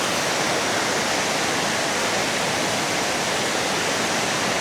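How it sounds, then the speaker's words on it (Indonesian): A low-flowing river in the Lembah Harapan valley near Mojokerto rushes in a steady, dense hiss at night, loud and close, unbroken throughout with no voices over it. "dan airnya, debit sungai airnya nggak begitu besar ya"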